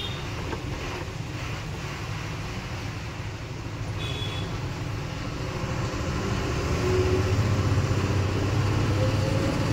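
A truck creeps through a narrow, low bridge underpass, its engine a steady, close rumble under wind noise, swelling slightly toward the end.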